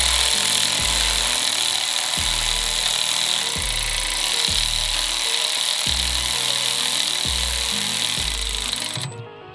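A hand ratchet snugs small bolts on a C8 Corvette DCT transmission, giving close, rhythmic rasping strokes about once a second, repeated eight or nine times before stopping.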